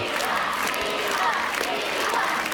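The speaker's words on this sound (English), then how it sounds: "the crowd began chanting Savita's name" A large crowd in Ireland chants a woman's name just after an official result is announced, a dense, continuous roar of many voices at steady volume.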